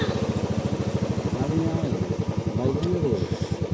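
A motorcycle engine runs nearby with a steady, rapid low putter throughout, while voices talk over it.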